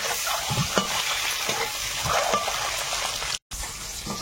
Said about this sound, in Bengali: ডিম ভাজা হয়ে গেছে, এখন উঠিয়ে নেব।